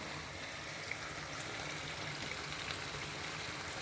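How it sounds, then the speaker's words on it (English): Water heating in a pot on a small stovetop burner, a steady quiet rushing hiss with faint bubbling throughout, no voices. "It's bubbling along there a little bit at the bottom."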